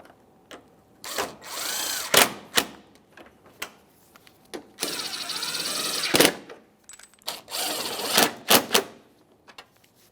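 Hardware on a 2014-2018 Mazda 3 headlight assembly is snugged with a power tool in several short whirring bursts and a few longer runs, separated by clicks and knocks of handling.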